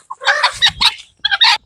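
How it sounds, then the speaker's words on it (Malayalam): A Giriraja breed rooster clucks close by, giving a quick run of loud clucks, a brief pause, then another short burst. "ഇത് നമ്മളെ ഗിരിരാജൻ കോഴി ആട്ടോ."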